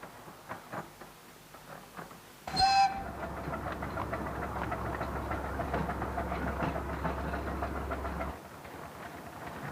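Kachinjunga, a 7.25-inch gauge replica locomotive at a Festiniog spring gala, sounds a short shrill whistle, then runs past with a steady low rumble and rolling rail clatter that cuts off abruptly near the end.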